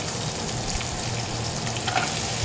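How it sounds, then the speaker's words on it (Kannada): Green chillies, cashews and almonds fry in hot oil with ginger and garlic, a steady dense sizzle throughout with faint crackles and no talk. "ಫ್ರೈ ಆಗಲಿ ಸ್ವಲ್ಪ ಮೂರು ಹಸಿಮೆಣಸಿನ್ಕಾಯಿ ಗೋಡಂಬಿ ಬಾದಾಮಿ"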